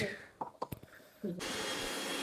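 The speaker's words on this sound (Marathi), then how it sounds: "आता इथं मिक्सर मध्ये लसूण बारीक करते ना." A few soft knocks and handling clicks are followed by a mixer grinder starting up and running steadily on garlic and coconut, its whir fairly quiet and close.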